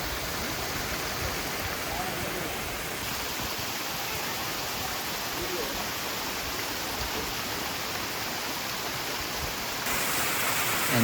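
Kiliyur waterfall in Yercaud runs with low water flow, giving a steady, broad rushing wash of falling water throughout with no break.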